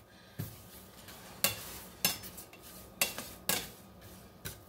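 Coconut being stirred and toasted in a pan, with sharp scraping clacks of a utensil against the pan at irregular intervals over a faint background, no voices.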